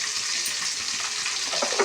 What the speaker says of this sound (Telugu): ఇప్పుడు దాంతో కాస్త పోపు దినుసులు వేసుకుందాం